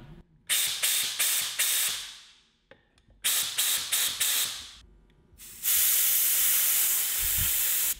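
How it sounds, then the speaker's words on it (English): Compressed air blasting through the passages of a Honda CB750 motorcycle carburetor: several groups of short, sharp hissing bursts, then one long continuous loud blast, close up with no talking. "So the carburetors have been blown out."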